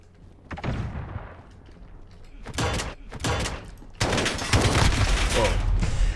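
AK-47 fire in the Call of Duty Modern Warfare beta, with loud close bursts of automatic shots in several volleys, the last one sustained and heavy.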